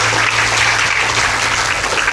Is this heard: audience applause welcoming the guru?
yes